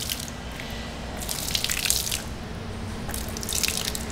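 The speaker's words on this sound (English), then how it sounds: "we're gonna just simply wring it out." Water drips and splashes into a bucket in two brief bursts as a car wash mitt is wrung out by hand during a rinseless wash. The sound is close and moderately loud over a soft background, with no speech.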